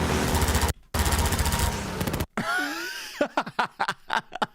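Rapid bursts of gunfire from the video game Half-Life 2, dense and loud for about two seconds with brief gaps, then scattered sharp single shots with whistling tones in between.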